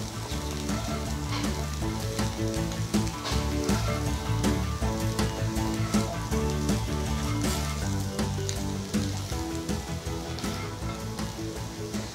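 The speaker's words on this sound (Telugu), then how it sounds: "1 టీ స్పూన్ కారం వేసుకొని కలుపుకోవాలి. ఒక 2 నిమిషాలు ఫ్రై చేసుకోవాలి." Potatoes fry in a pan with a teaspoon of chili powder stirred in: a loud, constant crackling sizzle runs unbroken throughout with faint stirring, and no one speaks.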